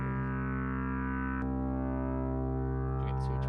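Drone pad in Ableton with reverb added: a continuous, gritty sustained tone that holds steady and dense, broken by one short click partway through.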